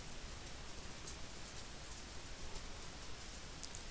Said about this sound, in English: Man, it's raining like crazy outside.